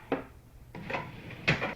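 Vanity drawer sliding open or shut in a few quick wooden knocks and scrapes, close by and sharp, with no talking.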